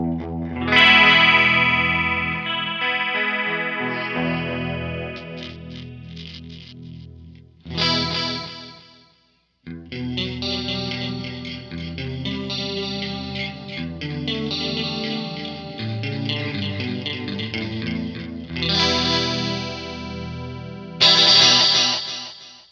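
An electric guitar played through a Zoom 505II multi-effects pedal cycles through crunch, overdrive, distortion, blues, fuzz, lead and metal presets, with loud chorded riffs and sustained notes separated by brief pauses between patches.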